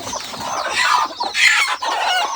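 Hens cluck inside a poultry coop fitted with laying boxes, a close, lively series of overlapping clucks and squawks rising and falling without pause.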